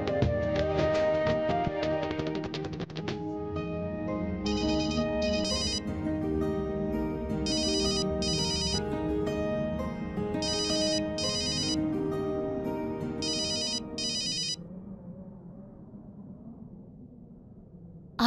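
A melodic phone ringtone chimes repeatedly for an incoming call, steady and fairly loud over a musical soundtrack, fading down near the end.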